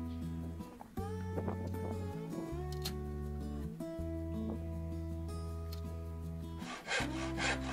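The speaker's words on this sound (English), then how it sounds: "So for the wooden one, I'll just cut" A handsaw cutting through dense plywood for a bird box protection plate, with steady back-and-forth rasping strokes, close and loud, the pitch shifting slightly between strokes.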